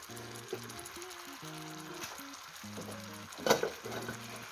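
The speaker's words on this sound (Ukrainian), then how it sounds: "А самі огірки смажимо в невеликій кількості олії." Oil crackles and sizzles steadily as cucumbers fry in a small amount of oil in a pan, with a sharper burst of spattering partway through and soft music playing underneath.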